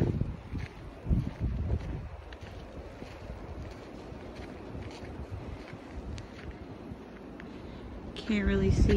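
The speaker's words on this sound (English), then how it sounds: "It's windy." Strong wind from a blizzard snowstorm outdoors near a river in upstate New York, roaring as steady broadband wind noise buffeting the microphone, with a brief voice at the start and a louder gust or rumble near the end.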